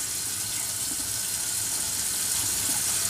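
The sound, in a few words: water rinsing a chemical peel off skin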